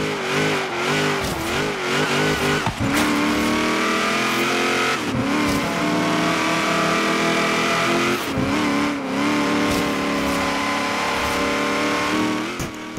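Race car in Forza Horizon 3 held at full throttle, a loud, continuous engine roar with rising and falling pitch through gear changes, sliding sideways on a rainforest course, steady and close with no talk.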